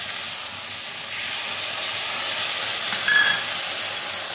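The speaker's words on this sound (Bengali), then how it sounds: "আমি বাটি ধোয়া জলটা দিয়ে দিচ্ছি।" Water used to rinse a bowl is poured into a hot pan of nearly fried food, raising a steady, fairly loud broad steam hiss that holds evenly for several seconds with a brief higher whistle near the end; no voices.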